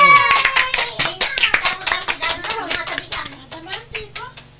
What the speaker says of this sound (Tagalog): tinabara palakpak